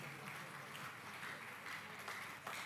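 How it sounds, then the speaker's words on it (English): An audience at a music festival applauds performers taking a bow, a steady wash of many hands clapping, even and sustained, with a faint murmur of voices underneath. "Please keep clapping until they take a bow."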